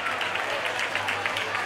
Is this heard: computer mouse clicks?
no